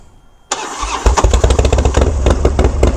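A 2006 Harley-Davidson Dyna with a 116 engine cranks briefly on the starter, then catches and barks into a loud, close, lumpy idle with sharp pulsing exhaust beats.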